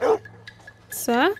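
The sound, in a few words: bloodhound dog barking in video game Red Dead Redemption 2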